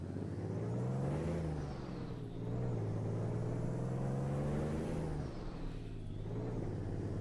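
A Kenworth K100 truck in American Truck Simulator pulls away in third gear with a small trailer, its engine droning steadily and loudly, rising and falling in pitch through the clip with no talk over it.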